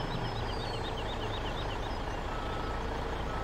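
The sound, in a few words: truck reversing with beeps in video game Farming Simulator 17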